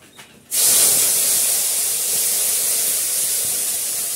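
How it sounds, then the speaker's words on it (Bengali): Tap water runs over curry leaves, starting abruptly after a brief quiet moment and then gushing as a loud, steady hiss for several seconds. "কারি পাতাটা একটু ধুয়ে নেব, পরিষ্কারই তাও ধুয়ে নেব।"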